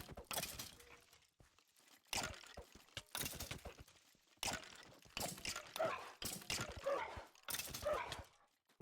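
Barking of a hostile dog in an online adventure video game, coming in several loud, sharp bursts spread over the span, with some gaps and other game noises between them.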